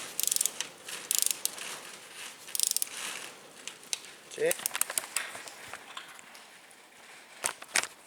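A ratchet clicks in short bursts on a Ford Fiesta engine while a camshaft pulley bolt is tightened, quiet and close, with scattered metallic knocks and tool handling between the clicks.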